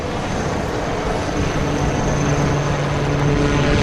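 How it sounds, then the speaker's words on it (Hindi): A HAL Light Utility Helicopter flying at the Aero India air show in Bengaluru, a loud steady engine and rotor drone with a faint whine, building slightly throughout. "इस वक्त हम लाइट यूटिलिटी हेलीकॉप्टर को देख रहे हैं"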